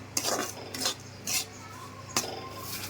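Coconut powder and semolina stirred in a kadhai, with a few sharp metallic scrapes and clinks of a spoon against the pan spaced across a quiet background.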